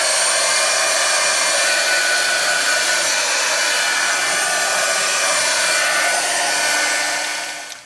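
A hair dryer blows steadily on a collage art journal page, a loud, continuous broadband whoosh held for nearly eight seconds before it cuts off abruptly at the end.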